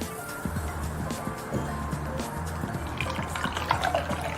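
Coconut milk dripping and trickling as it is strained through folded cheesecloth in a kitchen, a steady wet patter that thickens toward the end, with no talking.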